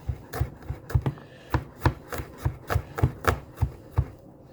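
Knife chopping garlic thinly on a cutting board for lomo saltado, a steady run of about a dozen crisp, close taps at an even rhythm, with no talking.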